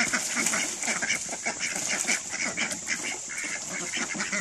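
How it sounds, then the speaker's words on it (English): A flock of ducks quacks and chatters continuously nearby, overlapping calls in a busy, lively jumble. "that's a double hen with three drakes."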